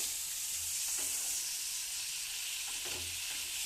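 Onions fry in a pan for a Punjabi paneer masala gravy, giving a steady close hiss of sizzling oil with a few soft scraping stirs mixed in.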